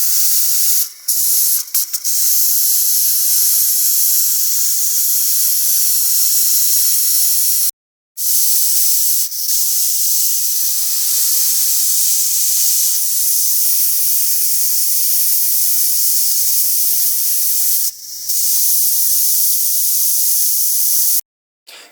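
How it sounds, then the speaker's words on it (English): Steam venting from a pressure cooker's release valve while boiling peanuts, a loud continuous hiss broken by a few brief stops, with no talk. "You have to release the pressure valve, so that way we can open it up safely."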